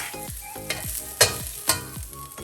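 Sausage cooking in a skillet after crisped pepperoni, heard as a close, steady sizzle broken by a rhythmic series of clattering stirs and scrapes, with sharper knocks at intervals.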